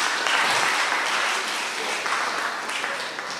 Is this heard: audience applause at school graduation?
yes